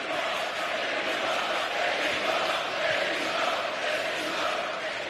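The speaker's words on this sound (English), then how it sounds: "This sellout crowd here in Manchester enjoying the action in the Continental Classic" A sellout crowd at a wrestling event in a Manchester arena keeps up a steady, loud roar and murmur for the whole stretch, with no clear individual voices.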